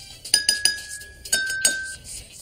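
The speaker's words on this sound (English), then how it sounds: "Use a spoon to tap each glass and compare the pitches." A spoon taps water-filled drinking glasses, five bright ringing clinks in two quick groups, close and clear, each leaving a short sustained glassy tone.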